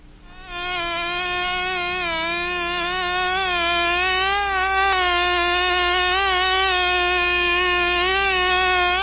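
Mosquitoes, the disease-carrying kind, whine in a steady high-pitched buzz that wavers slightly in pitch. It stays loud and close for the whole stretch, with no other sound.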